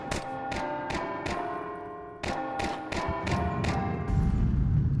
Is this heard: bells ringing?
yes